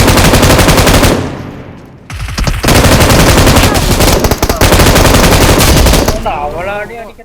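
M4 rifle fire in the mobile game BGMI: very loud, rapid automatic bursts with a short pause, close and continuous for most of the stretch.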